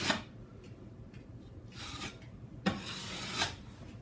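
Filler paste is spread and pressed into a hole with a scraping tool in soft, close rubbing and scraping strokes, several short passes with pauses between, with no talking.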